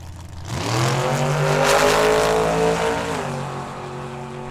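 Drag racing cars, a Monte Carlo and a Camaro, launching at the line at Tucson Dragway, engines rising in a loud revving roar that climbs and holds before easing off, close by, with no talk.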